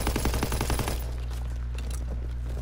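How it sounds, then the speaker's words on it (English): Rapid automatic gunfire in the video game Call of Duty: WWII, a fast rattling burst for about a second that cuts off into a steady low drone. "How dare you shoot us while we're retreating?"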